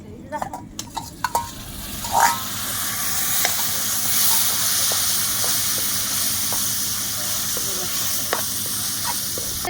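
Bombay duck fish dropped into a pan of frying masala with onion, garlic and red chilli, giving a loud, steady sizzle and hiss after a few brief clatters at the start.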